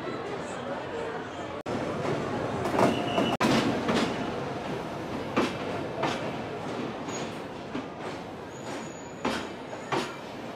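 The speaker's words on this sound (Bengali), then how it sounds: "ঘড়ির কাঁটায় 10টা 10 ট্রেন কিন্তু এখন ঢুকছে" The 12446 Sampark Kranti Express rolling into a station platform, rumbling with rhythmic clickety-clack of wheels over rail joints and a faint wheel squeal, loud and near, amid background station voices.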